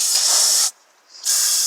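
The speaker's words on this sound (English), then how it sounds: "take some brake cleaner," Two bursts of aerosol brake cleaner sprayed onto a 2014 Honda CR-V serpentine belt hiss loudly up close, separated by a short half-second pause.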